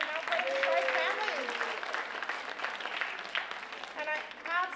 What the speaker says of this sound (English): Yes, give yourselves a round of applause.